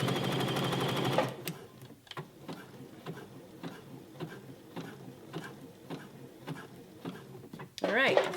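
A sewing machine reverse zigzag stitches a fabric scrunchie: a loud motor whir at first, then a steady ticking patter of the needle, with another surge of whir at the end and a voice nearby.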